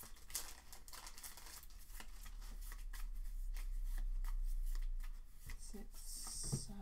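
Cards from the Pedigree animal breeding board game are shuffled by hand at close range, a busy run of papery riffles and crisp flicks lasting several seconds.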